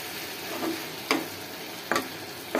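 Vegetables fry in a pan with green chillies and onion, giving a steady, close hiss of sizzling oil and a few sharp scraping stirs of a spatula. No one speaks.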